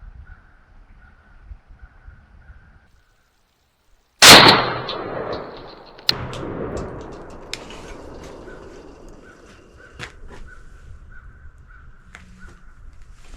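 A single loud shotgun blast firing Remington TSS shells at a target, with a sharp crack and ringing decay, followed by faint clicks and handling noises.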